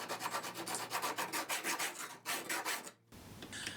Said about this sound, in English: I also give the radius a good file too, using the oak block to help me hold it.